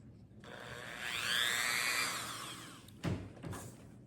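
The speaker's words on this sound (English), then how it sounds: "this Dremel tool, it comes with an attachment that's like a drill bit" A Dremel rotary tool with a drill-bit attachment carves into a pumpkin, its quiet whine rising and falling over a couple of seconds, followed by two brief scraping bursts.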